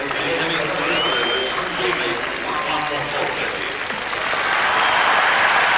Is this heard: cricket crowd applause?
yes